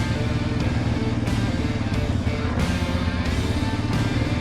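A Yamaha Raptor 700R ATV runs in second gear, its engine a loud, steady, close drone that holds the whole time with no break and no voices.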